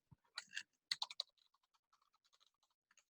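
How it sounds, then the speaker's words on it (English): Quick clatter of keys on a computer keyboard as an email address is typed in, a burst of louder strokes followed by lighter scattered taps, close and fairly quiet with no talking. "I'm typing in my email address here."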